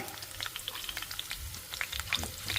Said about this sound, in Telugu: చక్కగా అన్ని వైపులా చక్కగా వేగుతుండాలి సిమ్లోనే వేయించుకోవాలి మనం